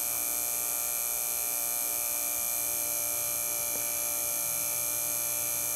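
A Magic Bullet blender motor runs on 24 volts DC at full speed, a steady high-pitched electric whine and hum that holds constant and loud throughout.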